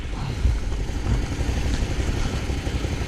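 A Can-Am Outlander 1000 XMR ATV engine idles steadily and close by, a continuous low rumble that holds level throughout with no revs or breaks.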